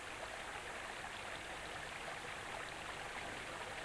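A mountain stream flows in a steady, rushing wash of water, continuous and even with no breaks, heard on its own without voices.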